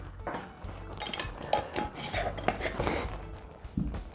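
A spoon clinks and scrapes against a bowl while ground cumin goes into a Bajan seasoning mix, giving several light metallic taps and rubs close up.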